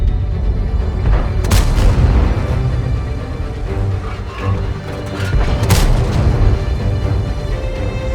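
Tank cannon shells strike a tank's turret armor in a World of Tanks battle, with heavy booming impacts and two sharp crashing hits over a dense, continuous low rumble of engines and combat, loud and close.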